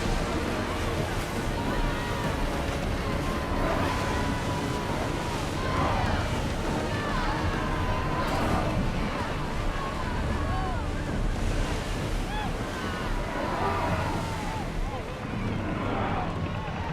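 A ship sails across the sea in Assassin's Creed Odyssey, with steady waves, surf and wind rushing across the whole stretch, a continuous ocean bed with faint voices mixed in.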